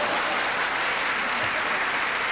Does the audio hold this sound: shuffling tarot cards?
no